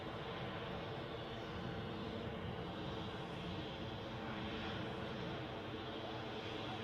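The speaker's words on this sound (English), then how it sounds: "Plane you're looking at, an Embraer 190 standard on its way to London City Airport." An Embraer 190 airliner at Edinburgh airport, bound for London City, gives a steady, broad engine roar that holds at an even level throughout, a continuous wash of jet noise with no breaks.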